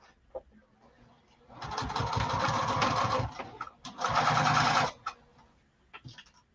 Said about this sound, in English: So we're going to stitch this and back tack.